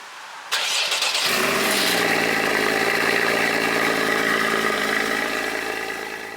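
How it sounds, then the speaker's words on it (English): A Porsche 981 Cayman GTS with a PDK gearbox starts up: a sharp crank and catch, then a loud, steady engine drone that holds close by and fades slightly at the end. "Now to try the PDK Cayman with Andy going first"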